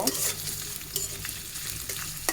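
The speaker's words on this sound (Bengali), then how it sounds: "পেঁয়াজ কুচি এখন এটা লাল করে ভেজে নিব" Chopped onion fries in oil in a pan with occasional stirring, a close, steady sizzle broken by light scraping clicks.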